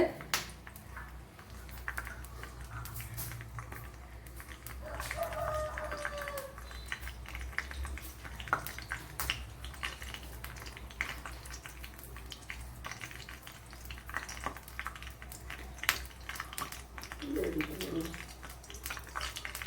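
Mustard seeds frying in a tablespoon of coconut oil for a Kerala-style curry, sending out faint, irregular crackles and pops over a low steady hum.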